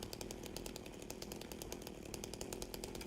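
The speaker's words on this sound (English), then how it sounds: "singular enemies, I'm gonna use the chainsaw" A chainsaw in the video game Silent Hill 2 on a New Game+ playthrough runs as a loud, continuous, rapidly pulsing motor buzz, heard alone without talk.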